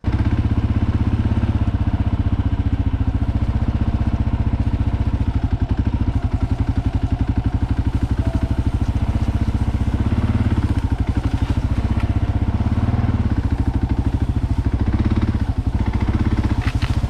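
A Kawasaki KLR650 single-cylinder motorcycle rumbles steadily at low speed and idle in a state forest, a loud close thumping engine note with clatter throughout.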